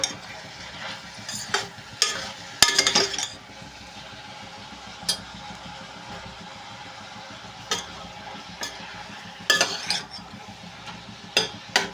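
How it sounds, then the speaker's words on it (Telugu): Onions frying in oil give off a steady, close sizzle, broken every few seconds by sharp scrapes and clinks of a stirring utensil against the pan. "ఉల్లిపాయలు ఫ్రై అవుతున్నాయండి"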